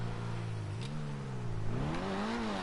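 Modified Toyota Supra engine in GTA Online revving steadily with rising and falling pitch, a continuous close mid-range drone with no talking.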